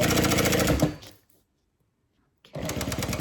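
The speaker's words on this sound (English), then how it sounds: "So just 1/8 of an inch, I'm gonna go ahead and sew." A sewing machine stitching an eighth-inch seam on a double zip bag: a fast, loud mechanical whir that runs, stops abruptly into near silence, then starts up again.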